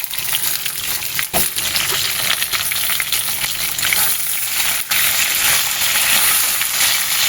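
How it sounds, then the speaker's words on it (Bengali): Chopped tomato and onion fry with browned potatoes in a pan, a loud continuous sizzle and crackle with occasional stirring clicks and scrapes, close and alone without talk. "এবারে আমি এর মধ্যে ওই টমেটো আর পেঁয়াজ কুচনোটা দিয়ে দেবো।"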